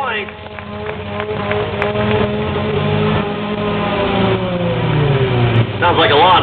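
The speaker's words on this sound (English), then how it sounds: "Sounds like a lawnmower." A rough, buzzing demolition derby car engine idles and revs steadily, sputtering like a lawnmower, with voices talking over it and crowd noise behind.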